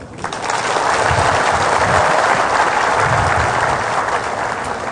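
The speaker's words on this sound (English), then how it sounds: "can I just ask everybody here to just give yourselves a giant round of applause just for being here" Seminar attendees give themselves a big round of applause, a loud, sustained wash of clapping that holds steady throughout after a brief start.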